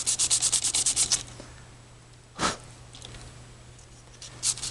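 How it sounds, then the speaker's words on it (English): Sandpaper rubbed along the bottom of a model excavator bucket to take off paint, with a burst of rapid close scratching strokes, then quiet and a few isolated rubs. "So you take your sandpaper and just run it all along the bottom."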